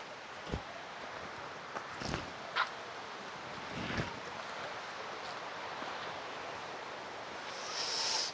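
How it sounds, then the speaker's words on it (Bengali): A waterfall on Ajodhya Pahar in Purulia gives a steady, distant rushing roar, broad and even, with a few short knocks and a brief brighter hiss near the end. "ঝর্ণার শব্দ এখান থেকে শুনতে পাচ্ছি"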